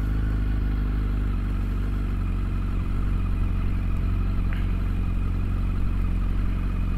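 A Yamaha R1 motorcycle rides in a straight line, its engine giving a steady, continuous mid-pitched drone with road and wind rumble beneath, even and unbroken throughout, with no talking.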